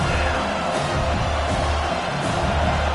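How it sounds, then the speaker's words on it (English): A stadium crowd at a football game roars continuously in a dense, loud wall of cheering and whooping that fills the space without a break. "Listen to this crowd just shaking the girders of this place, trying to help their defense."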